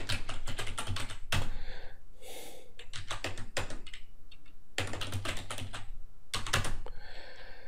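Close, brisk clatter of keys on a computer keyboard as MySQL commands are typed, coming in quick runs of taps broken by short pauses, with soft breathing in the background.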